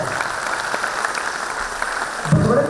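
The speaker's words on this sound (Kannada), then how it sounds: "ನಿಮಗೆ ಪ್ರೀತಿ ಇದ್ರೆ ಮತ್ತೊಮ್ಮೆ ಬರಲಿ ಜೋರಾದ ಚಪ್ಪಾಳೆ" Audience applause at a school award ceremony, a steady broadband patter of many hands clapping that swells a little louder near the end.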